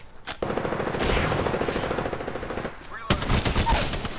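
Close, loud bursts of rapid automatic gunfire in the Apex Legends video game, with a sharp single shot at the start and a fresh volley near the end.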